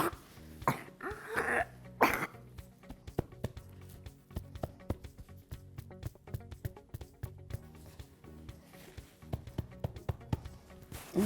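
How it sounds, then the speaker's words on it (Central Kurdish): A person with cerebral palsy coughs and clears the throat in a few rough bursts near the start, followed by a long run of sharp, irregular clicks and faint rustling. "ئێستا کۆکەی پێ باشە"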